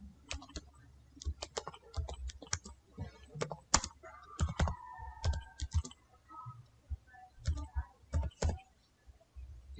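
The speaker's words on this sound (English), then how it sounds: "type your text here" Keys on a computer keyboard are typed in quick irregular bursts of soft clicks, fairly close and quiet, with brief pauses and a faint tone partway through.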